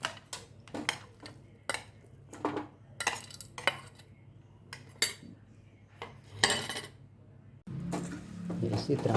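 A spoon clinks and scrapes against a metal bowl while grated raw mango, chana dal and white chickpeas are stirred into spice masala for pickle, irregular close taps with a steady low hum beneath.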